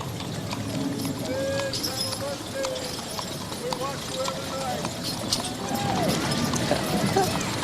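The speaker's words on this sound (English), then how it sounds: "Now, this is one that would just scare me, to be trying to steer 10 horses at one time." A ten-horse team pulling three wagons in a rodeo parade clip-clops steadily along the street, the hooves close and continuous while someone talks over them.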